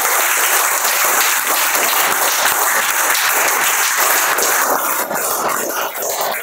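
An audience gives loud, sustained applause for a student's exam result at a gathering, thick crowd clapping that stays strong throughout and eases a little near the end.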